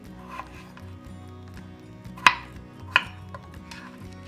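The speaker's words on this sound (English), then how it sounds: "now I'm just going to cut these into about 1-inch cubes" Two sharp knife chops cut potatoes into one-inch cubes on a cutting board, spaced apart, over a quiet steady background hum.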